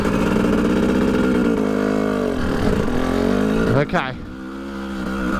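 A motorcycle climbs a steep hill, its engine droning loud and close, revving and shifting pitch throughout, with a brief dip near the end and a short spoken word over it.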